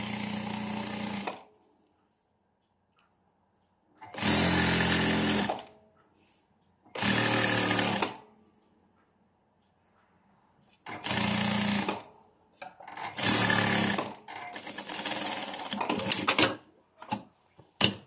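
Domestic sewing machine stitching a zipper onto a prayer dress, running in several loud, rapid bursts of a few seconds each, separated by quiet pauses with soft handling noises.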